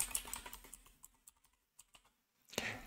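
Someone types on a computer keyboard to enter a Windows PowerShell search, with quick irregular key clicks, a pause, then a louder final burst of keystrokes, close by with no speech.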